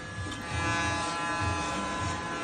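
Electric clippers buzz steadily while shaving a head down to the scalp, the motor hum holding close and continuous with slight swells as the blade passes over hair.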